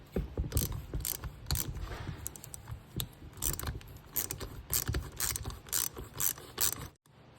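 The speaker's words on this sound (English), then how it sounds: "to get this plastic housing off, I've got to take this bolt loose, which is a 13 millimeter" A ratchet wrench loosens a 13 mm bolt holding the plastic housing on a Chevy truck starter. It gives quick bursts of clicking strokes, close and fairly loud, with short pauses between runs and a sudden stop near the end.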